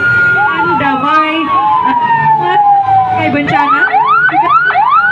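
Wailing fire truck siren at an Independence Day parade of decorated floats, steady rising and falling sweeps heard close and loud, with a person talking over it throughout.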